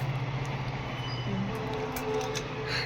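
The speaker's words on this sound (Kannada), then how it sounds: "ಟ್ರೈನ್ ಹೋಗತ್ರಿ ಎಷ್ಟು ಚಂದ ಕಾಣ್ತತ್ ನೋಡ್ರಿ" A train passing by in the evening, heard as a steady low rumble with a constant droning hum and faint metallic rattles, fairly close and uninterrupted for a few seconds.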